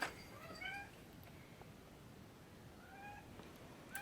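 A cat meows a few times, thin rising calls at the start and again near the end, faint against a soft indoor background with no talk.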